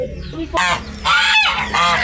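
Loud, close honking calls from ducks come in three harsh bursts in quick succession.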